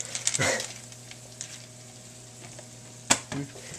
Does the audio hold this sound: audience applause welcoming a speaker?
no